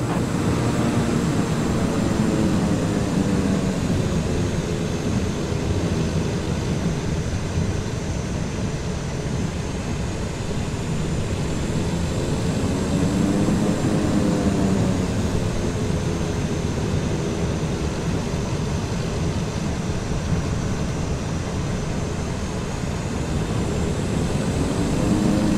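Airliner taxiing to its gate at Geneva in the flight simulator MSFS 2020, with a steady engine drone and a slowly wavering tone running unbroken and loud throughout, no talk.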